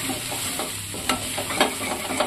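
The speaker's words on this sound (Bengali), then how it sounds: "এটা আবার মশলার সঙ্গে ভালো করে মিশিয়ে কষানো হবে।" Sliced pointed gourd frying with spices in a pan over a medium flame, a steady sizzle broken by several sharp scraping stirs, close and clear with no talk.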